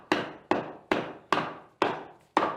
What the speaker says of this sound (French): On a juste le marteau.